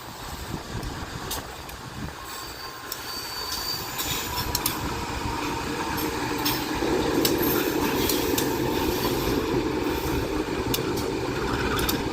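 A railway locomotive rumbles and creaks as it is slowly turned on a turntable, giving a continuous loud mechanical drone with faint metallic squeals and clanks, heard up close without talk.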